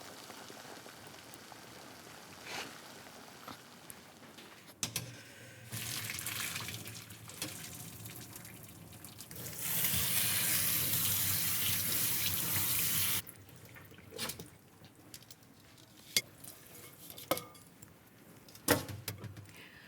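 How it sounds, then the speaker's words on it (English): Cooked soba noodles are rinsed under a cold tap into a sink, water starting and stopping in bursts, with a loud steady stream in the middle and some clinks between. "ready to be drained and rinsed under cold water"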